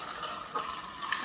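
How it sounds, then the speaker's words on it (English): Coffee pours and trickles steadily over ice at close range, a soft splashing stream with a brief brighter crackle near the end. "I'm going to just pour it over our ice"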